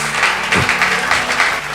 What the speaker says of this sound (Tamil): கைத்தட்டுங்க ஒரு அவருக்கு.